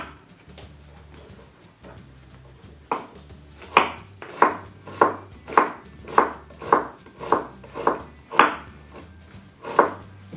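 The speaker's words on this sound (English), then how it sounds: "You also want thin matchsticks for the carrots." Kitchen knife chopping carrots into thin matchsticks on a cutting board, a steady series of about a dozen sharp, evenly spaced thuds, close and clear with a low background hum.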